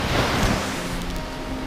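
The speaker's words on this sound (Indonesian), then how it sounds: "ombak juga sangat besar sekali" Large ocean waves around an island reached by boat on a spearfishing trip, a loud, rushing wash of surf with wind buffeting the microphone, brief and without voices.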